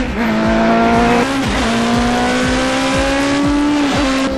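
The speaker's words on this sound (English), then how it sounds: "now as this car accelerates up the main straight, I want you to watch how Bill changes gear" A Mini powered by twin Yamaha R1 motorcycle engines screams up a race circuit's main straight, loud and close, its high revs climbing then dropping sharply at several quick gear changes.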